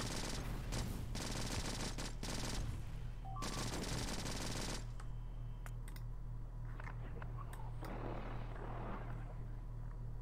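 Rapid gunfire in the video game Factorio rattles in dense bursts for about five seconds, then gives way to quieter scattered clicks and faint tapping.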